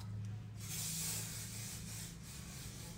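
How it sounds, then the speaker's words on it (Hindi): Setting spray on hair wound in rollers gives one soft, short spray hiss near the start, faint under room hum, then low background noise. "यहाँ पे हम अब करेंगे सेटिंग स्प्रे का"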